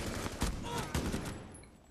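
Gunfire in the Rainbow Six Siege video game, two sharp loud shots about half a second apart with a short ringing tail, no talk.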